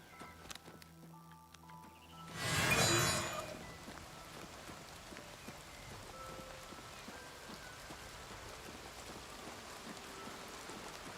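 Steady, faint rain patter in the video game Oblivion Remastered, holding evenly throughout, with a louder rushing burst near the start that swells and fades within a second.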